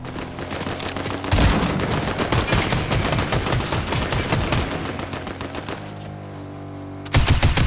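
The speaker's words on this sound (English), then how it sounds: "Shots in park." Rapid gunfire in Fortnite, sustained bursts of automatic shots rattling densely for several seconds, easing briefly before another loud volley breaks out at the end.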